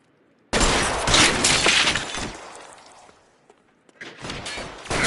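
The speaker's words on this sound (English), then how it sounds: "I'll lay down some suppression fire" Suppression gunfire in the video game L.A. Noire: a loud, dense burst of shots and crashing impacts that runs for about two seconds, then fades out, with a second loud burst starting near the end.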